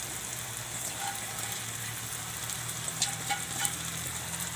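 Spinach tipped into a hot pan with tomatoes and fried for a dal and spinach dish, giving a steady, fairly quiet sizzle with a few light clicks from stirring and no speech.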